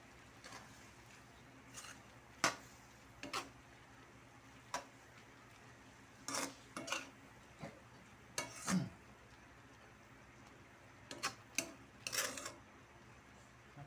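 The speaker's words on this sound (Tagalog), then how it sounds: "haluin natin" Ginataang sigarilyas, winged beans in coconut milk, stirred in a pan with a quiet simmer underneath and a dozen or so scattered soft clinks and scrapes of the utensil coming at irregular intervals.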